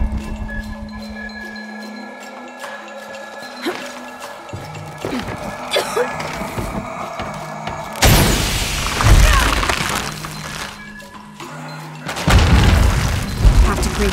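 Explosion in the video game Shadow of the Tomb Raider, with loud broadband bursts at about 8 and 12 seconds over rumbling game ambience and low hums, and short thuds and debris-like crackle following each blast.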